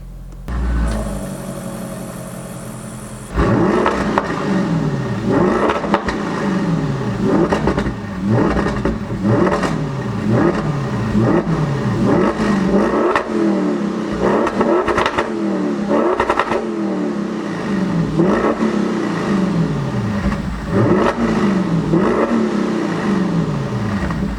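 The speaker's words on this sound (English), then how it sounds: "Sick sound, eh? V8 twin turbo, 605 horsepower." A loud 605-horsepower twin-turbo V8 of a 2017 Audi RS6 Performance with Akrapovic exhaust revs repeatedly in rising and falling sweeps, with a brief high whine before the revving starts and no voices.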